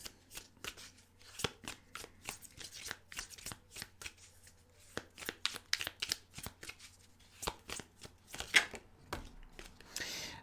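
Playing cards are shuffled up close in a quiet room, a long run of crisp riffling flutters and taps coming in uneven bursts, with no talking.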